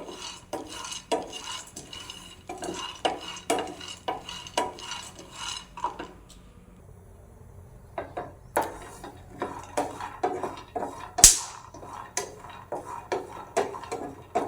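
Dry fruits dry roasting over a low flame, stirred with rhythmic utensil scrapes and taps against the pan, close and moderately loud, with a short pause midway and one sharp clack near the end.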